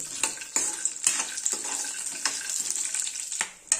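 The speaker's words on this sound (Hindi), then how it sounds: "गैस की मीडियम फ्लेम पे इन काजू और बादाम को भी भून लेंगे।" Cashews and almonds roasting in ghee in a kadhai over a medium flame, a bright continuous sizzle broken by repeated scrapes and stirs of a spoon against the pan.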